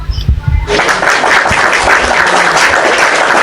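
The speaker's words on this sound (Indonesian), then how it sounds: "Saya mau applause dulu, tepuk tangan dulu nih buat saudara" Clapping from a small gathering, starting after a brief burst of speech and then continuing as a steady, moderately loud patter of many hands to the end.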